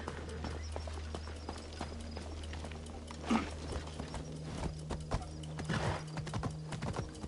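A horse clip-clops and gallops briskly in Assassin's Creed Shadows, close, fast hoof strikes over a low steady hum, with a louder thump partway through.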